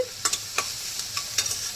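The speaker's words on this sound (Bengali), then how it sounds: "প্রথমে পেঁয়াজ ভেজে নিচ্ছি" Chopped onion frying for egg bhurji in a pan, giving a steady low sizzle broken by several sharp stirring scrapes and clinks of the spatula, close and fairly quiet.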